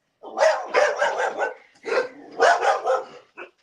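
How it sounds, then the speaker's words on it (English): A dog barks in two quick clusters of sharp, close barks with a short pause between them, ending on a brief final yip, loud and alone. "Sounds like your dog's pissed off about it, too."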